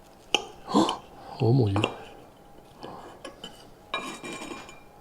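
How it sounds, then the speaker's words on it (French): A knife cuts a hot baked dish in half, producing scraping clinks of metal on the dish among kitchen clatter while a voice exclaims. "Et je coupe en deux."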